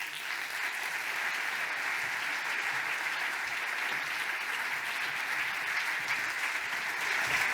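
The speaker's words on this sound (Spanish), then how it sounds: "Un aplauso para ellos." A theatre audience at a literary event in Bilbao claps steadily in a dense, sustained round of applause. It is even and moderately loud throughout, and no one speaks over it.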